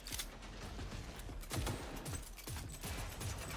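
Rapid bursts of gunfire in the video game Cyberpunk 2077, loud and close, with clattering mechanical clicks and repeated shot impacts over a few seconds.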